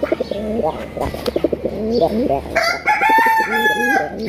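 Chickens cluck and call close by among pigeons in a pigeon collection near Dhaka, a run of short clucks followed by longer, louder crowing-like calls, with a voice briefly mimicking the clucking.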